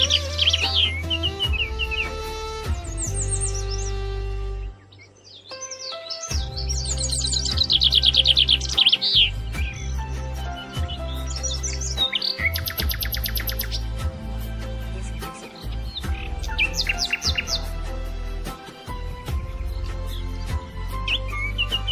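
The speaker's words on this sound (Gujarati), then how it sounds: "સમગ્ર વિશ્વમાંથી અહીંયા પક્ષીઓ લાવવામાં આવ્યા છે અને પક્ષીઓ તો બહુ સરસ" Many birds chirp and whistle in an aviary at the Statue of Unity, with varied close calls and trills overlapping above a steady low hum.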